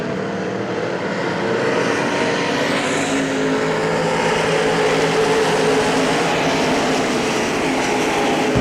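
Roaring engines of race cars at Hagerstown Speedway, a dense continuous loud drone of multiple cars on the dirt oval, steady throughout.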